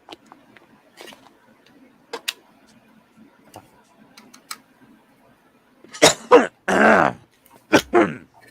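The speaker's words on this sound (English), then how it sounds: "I was coughing, but thank you." Amid quiet clicks and tapping during a live building session, a person nearby lets out a rough mix of cough and throat clear, a few short harsh bursts, with some voice sounds alongside.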